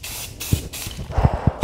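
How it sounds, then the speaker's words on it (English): A spray paint can gives several sharp hissing bursts, each a short, close blast of spray separated by brief gaps, with the last one cutting in at the very end. "Why is watching spray paint so satisfying?"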